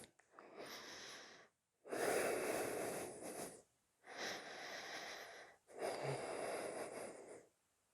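Four long, breathy exhalations come one after another during a beginner yoga flow, each a soft airy rush lasting a second or more with short pauses between, close and moderately loud.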